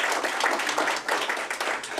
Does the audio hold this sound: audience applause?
yes